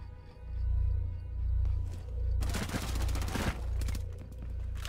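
Gunfire in a Rainbow Six-style tactical shooter game: a dense burst of rapid shots around the middle of the clip over a steady low rumble, with quieter scattered shots after it.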